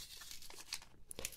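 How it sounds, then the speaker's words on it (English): NBA sticker pack torn open by hand, a short papery rip with crinkling foil, close and quiet, with no talking. "I feel like maybe I should just rip them"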